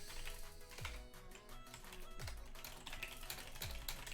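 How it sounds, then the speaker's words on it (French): Typing on a computer keyboard, rapid uneven key clicks with a few heavier thumps, close but quiet, with no talking. "J'espère que les bruits de clavier sont pas horribles pour vous en tout cas."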